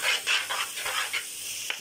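Small onions, shallots and garlic frying in a pan for mushroom biryani, a close bright sizzle with soft stirring swishes over a short stretch, no talking.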